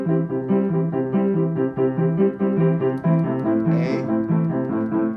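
Pop rock piano with right-hand block triads pulsing in a steady rhythm over left-hand broken triads, played clearly and close with sustained, ringing chords and no voice.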